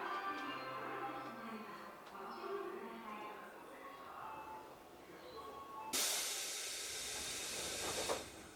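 Tobu Noda Line 8000 series train pulling out of Kashiwa station, a low rumbling run that swells at about six seconds into a loud, close hiss of air brakes and steady rolling noise continuing to the end.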